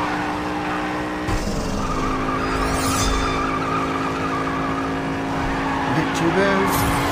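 A Jaguar F-Type slides through a right-hand drift in Need for Speed No Limits, with an engine roaring steadily and tire noise rising and falling over several seconds, and a voice talking over it.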